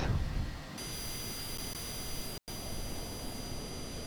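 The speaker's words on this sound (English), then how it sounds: "And let's see about the engine start." A Cessna Citation Longitude C700 business jet engine spools up at startup in a flight simulator, a steady broadband whine and rush with high tonal hiss lines, broken by one brief dropout midway.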